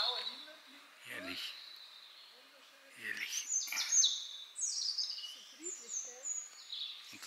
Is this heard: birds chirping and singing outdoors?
yes